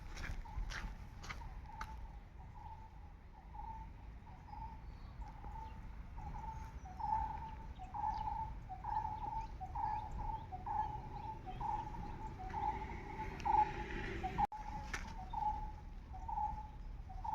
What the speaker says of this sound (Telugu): ఆ పక్షి ఏదో కానీ చాలా చాలా బాగా కూస్తుంది కదా